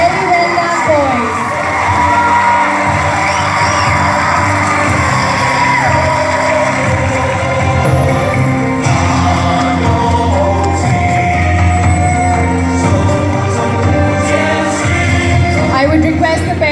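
A dense crowd of parents claps and cheers continuously at a children's martial arts display, loud and sustained, with whoops and yells over the applause.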